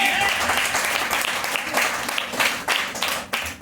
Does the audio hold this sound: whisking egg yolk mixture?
no